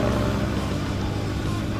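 A motorcycle accelerates hard up a steep climb on a road trip from Cibubur to Padalarang, giving a loud, steady engine drone close to the microphone. The tone stays sustained and mid-pitched through the short burst.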